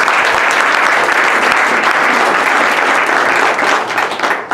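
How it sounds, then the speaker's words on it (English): Loud, steady applause from a crowd at an entrepreneurs' kick-off event, with dense clapping held at full strength before it starts to thin out near the end. "So please, round of applause"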